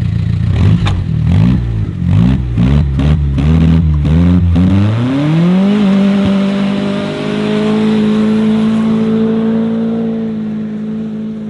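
A car engine running with Cola and Mentos in place of coolant revs in several short, choppy bursts, then climbs and settles into a loud, steady high idle that holds to the end.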